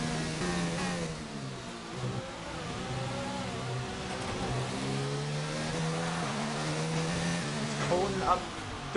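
Many Formula 1 race cars at Suzuka in a racing video game, a loud pack of engines droning and shifting through corners continuously, with a voice commenting over them.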